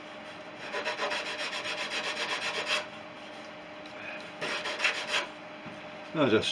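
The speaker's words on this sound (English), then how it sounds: "So I just literally just sand it across, not really there, but just make sure it's faired in." Hand sanding of a wooden trailing edge on a Fisher Youngster V aircraft: steady rasping strokes in a run of about two seconds, a pause, then a second burst, with a brief spoken phrase at the end.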